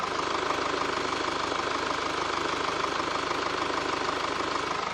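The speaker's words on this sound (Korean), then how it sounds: "바로 엔진 소리 한번 들려드릴게요" A Mercedes-Benz E-Class diesel engine idles steadily and evenly, a close, continuous rumbling hum with no other sounds.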